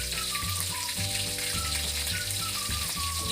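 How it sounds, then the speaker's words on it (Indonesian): Pieces of duck fry over a high flame in hot oil, giving a steady, dense sizzle and crackle that runs unbroken and close up, with faint background tones beneath. "Goreng bebek dengan api yang besar agar bebek yang dihasilkan kulitnya crispy tetapi dagingnya masih juicy"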